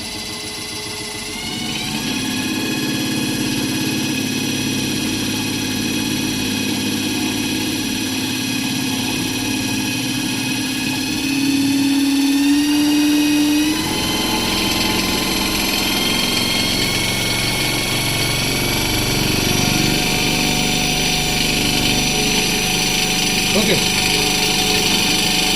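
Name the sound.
electric vehicle motor running up to 1500 rpm on test bench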